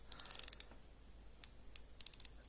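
The bezel of a Boldr Odyssey Meteorite watch turns in bursts of small, crisp ratcheting clicks: a quick run at the start, then a few isolated clicks and another short run, close and quiet.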